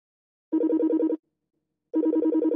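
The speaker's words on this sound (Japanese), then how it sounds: "電話" A telephone rings in two short trilling bursts separated by a second of silence, clear and close with nothing else around it.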